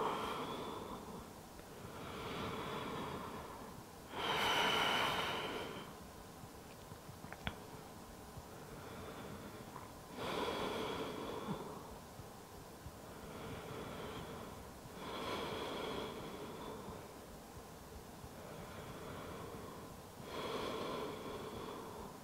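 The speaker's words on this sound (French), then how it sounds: "On va rester ici encore 5 respirations." Slow, deep breaths held in a yoga pose, each long inhale and exhale swelling and fading at regular intervals of roughly five seconds, soft and close with no talking.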